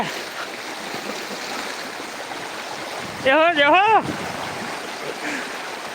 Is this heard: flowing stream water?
yes